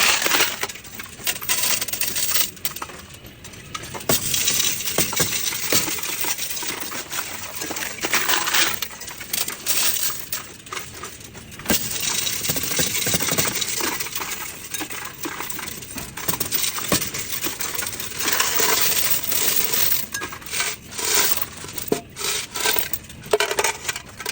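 Coins poured out of a piggy bank clatter and jingle steadily for the whole stretch, with dense metallic chinks and rattles as they are spread out and counted at close range.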